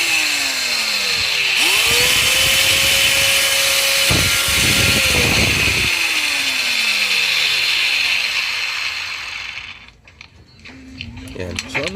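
A repaired DCA electric angle grinder spinning up and running at full speed, a loud high whine that dips in pitch and swells, then winds down near the end.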